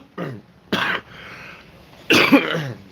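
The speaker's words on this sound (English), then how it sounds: "Never get this cough." A person in chemotherapy coughs and clears their throat in three harsh bursts, close and loud, with quieter breathing between them.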